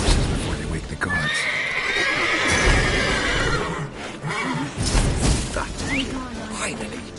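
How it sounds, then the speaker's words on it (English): Horses in the Witcher 3 video game whinny and snort repeatedly up close, with hoof clops and stable movement, loud and continuous, and a voice talks partly over them. "Gotta calm all the horses before they wake the guards."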